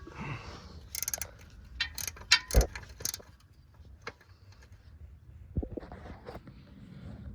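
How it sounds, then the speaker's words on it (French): A wrench loosens a lock nut during a lift kit install on a Mitsubishi Pajero, with sharp metallic clicks and clanks, one heavy knock, then quieter scattered scrapes and taps and no speech. "Je commence par desserrer le contre-écrou."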